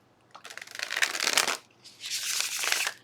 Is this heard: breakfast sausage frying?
no